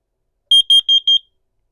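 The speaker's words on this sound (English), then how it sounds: "that was my CO detector" Four short, high-pitched electronic beeps in a quick, even rhythm, loud and close, from a Honeywell 5800CO carbon monoxide detector being tested, followed by silence.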